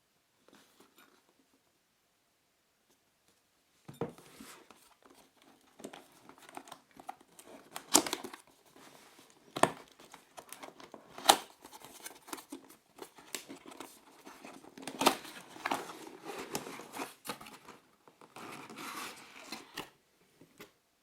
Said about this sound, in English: So let's go ahead and open up the box.